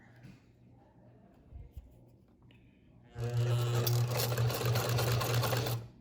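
A sewing machine stitching a courier pouch, with a faint hum and scattered clicks at first, then a loud, steady whirring run in the second half that stops near the end. No one talks.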